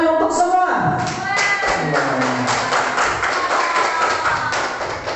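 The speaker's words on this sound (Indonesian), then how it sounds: "sekali lagi tepuk tangan untuk semua" Classroom applause from students at the end of a discussion session, a dense, steady clatter of many hands clapping close by for about five seconds, with a brief voice at the start.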